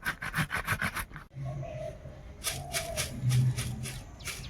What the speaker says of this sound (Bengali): দুটো টমেটো একটুখানি ঘষে পিউরি করে নিই।